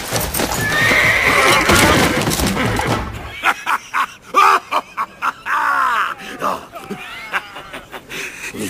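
A horse neighs loudly in an audio drama, a long whinny followed by rhythmic clip-clop hoofbeats and groaning, snorting sounds, all close and in the foreground.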